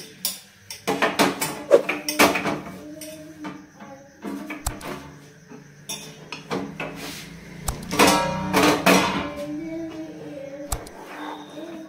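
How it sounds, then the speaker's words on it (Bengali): A metal plate being greased with ghee while making chana dal barfi in a home kitchen: scattered light clinks and scrapes of metalware, with a few louder clattering bursts, close and irregular. "এরপরে আমি একটা থালায় একটু ঘি নিয়ে ওটা থালাটায় মাখিয়ে নিচ্ছি।"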